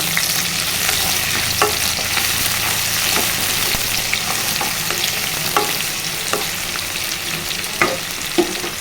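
Curry leaves frying in hot oil with onion pieces for a tomato curry, a loud continuous sizzle and crackle close by, punctuated by regular stirring clicks of a spoon against the pan, no talking.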